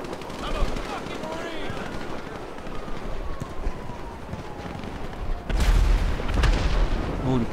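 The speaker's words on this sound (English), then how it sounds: "this thing is shooting" Gunfire from a vehicle in GTA Online, rapid machine-gun bursts and booms under excited talking and shouting, growing heavier and louder toward the end.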